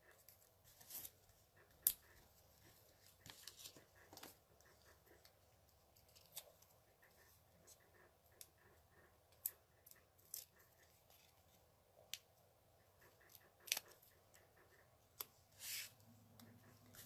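Scissors snipping through card stock during a paper card-making session, giving a series of sharp, quiet clicks and short cuts spread unevenly through the stretch, with faint background noise and little else.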